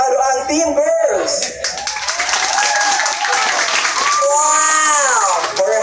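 A live show audience clapping and cheering loudly to vote for the winning team, with voices shouting and whooping over the applause, swelling strongly toward the end.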